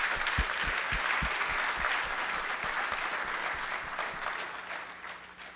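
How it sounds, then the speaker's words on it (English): An audience at a robotics competition event gives a round of applause, sustained clapping from a sizable crowd that gradually tapers off. "join me in a quick round of applause for them"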